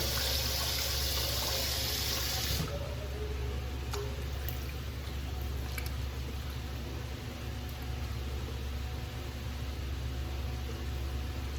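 Hot tap water running steadily into a bowl, loud and close at first, then cutting to a quieter trickle with faint background hum and no talk.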